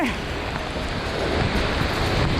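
Water falling from a waterfall at a forest site in India, a steady, loud, close rushing roar that fills the whole stretch without a break.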